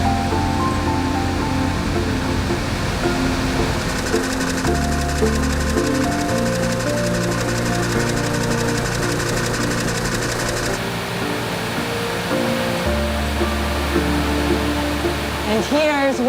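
Spinning mill machinery spinning yarn in a Scottish textile mill, a dense continuous mechanical whir and hum with steady droning tones that shift partway through, heard close and loud without speech.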